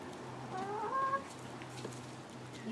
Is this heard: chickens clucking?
yes